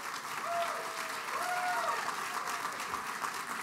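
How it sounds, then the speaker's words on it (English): An audience applauds steadily to welcome a guest speaker, Brandon Marshall, at The Kennedy Forum, with a few voices and whoops faintly rising above the sustained clapping. "please join me in welcoming Brandon Marshall"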